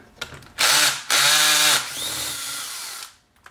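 A power tool removing bolts from a Tremec TKO 3550/500/600 five-speed transmission during a rebuild, with two loud, close whirring bursts, the second trailing into a winding-down spin, and no voices.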